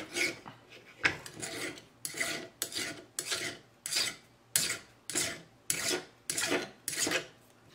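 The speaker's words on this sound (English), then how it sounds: "I'm just going to sand that, or file that at least." A metal ring being filed flat by hand, about a dozen even rasping strokes in a steady back-and-forth rhythm, close and clear with no talking.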